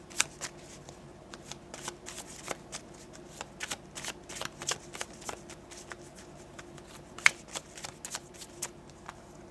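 New, slippery tarot cards being shuffled by hand, a long run of quick, crisp riffles and soft flicks, close and fairly quiet, with no talk.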